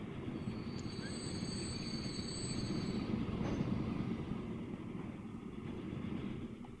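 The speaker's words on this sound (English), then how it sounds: "That must have been this train here." Train rolling along rails in the transport simulation game Transport Fever, a steady close rumble of wheels and carriages with faint high metallic squeals, continuous throughout without any talk.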